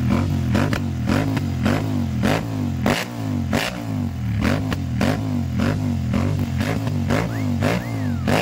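Several motorcycles, including modified sport bikes, rev loudly and continuously at a crowded group ride stop, engines overlapping close by with clattering and scraping.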